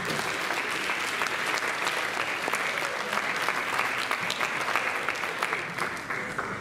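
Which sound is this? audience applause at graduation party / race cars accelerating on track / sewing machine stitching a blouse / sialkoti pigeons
audience applause at graduation party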